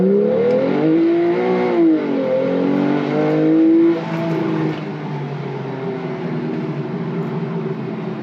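Car engine accelerating and revving hard, a loud close-up tone that climbs through the gears with pitch rises and drops, then settles into a steady roar with road rumble.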